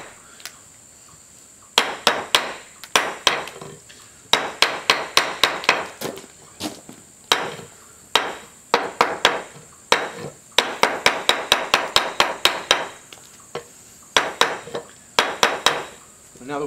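A chisel driven by a hammer cuts chips out of wood while carving the bed of a bowl vise, giving loud, close, sharp knocks in irregular bursts of rapid strikes with short pauses between.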